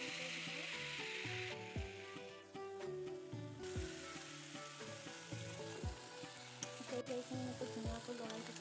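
Raw banana pieces fry in hot oil in a pan, a soft steady sizzle broken by rhythmic scrapes and knocks of a spoon stirring, quiet and close.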